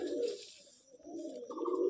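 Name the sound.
pigeons cooing in a loft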